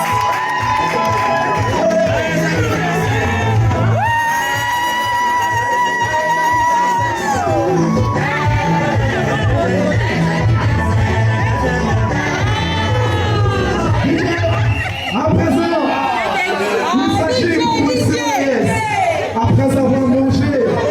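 Guests at a joint birthday celebration cheer and shout in a dense, steady crowd roar that lasts throughout, with voices and whoops rising above a constant low hum.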